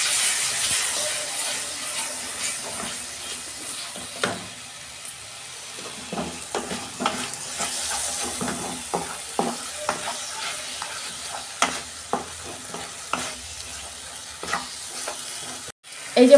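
Masala for a loitte (Bombay duck) fish curry sizzles and fries steadily in a pan, with a spoon scraping and stirring it in irregular strokes close by, under a constant hiss.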